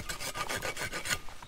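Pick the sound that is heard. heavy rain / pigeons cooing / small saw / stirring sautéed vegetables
small saw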